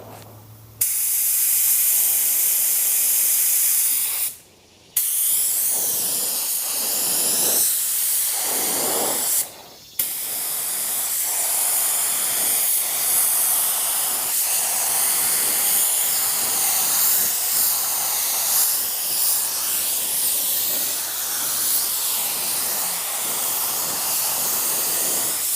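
Spray gun applying paint to a car bumper at low air pressure, a loud continuous hissing spray broken by two brief pauses, with shifting airy texture as the gun moves across the panel.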